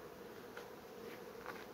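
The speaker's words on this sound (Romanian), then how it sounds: "sunt albine, au ac, înțeapă" Honey bees hum steadily at the hive, a continuous close buzzing drone with slight swells, heard alone without voices.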